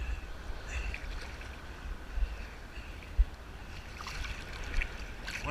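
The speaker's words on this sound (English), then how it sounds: "We're just floating now and riding the waves." Ocean waves rolling at a beach, heard from someone floating in the surf: a low, steady wash of water with a few soft surges building near the end, fairly quiet and without speech.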